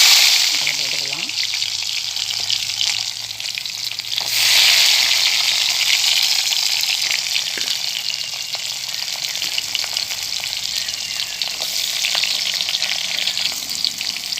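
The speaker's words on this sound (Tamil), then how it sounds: "இப்போ வெங்காயம் நல்லா வதங்கிடுச்சு" Small shallots sizzle steadily in hot oil in a pan, a close, continuous frying hiss with occasional stirring scrapes, no voice.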